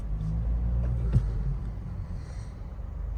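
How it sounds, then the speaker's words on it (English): A 2023 Lexus IS300 base model being driven, a steady low engine and road rumble heard from inside the cabin, fairly loud and continuous, with a faint brief knock partway through. "Let's go for a quick test drive in this 2023 Lexus IS300."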